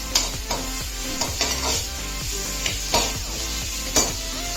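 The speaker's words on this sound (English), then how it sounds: "Saute this for 2 to 3 minutes until the onion changes a little bit color." Onion and tomatoes being stirred and sautéed in a pan, a steady sizzle under repeated scraping strokes of a utensil against the pan, close and fairly loud, with no talking.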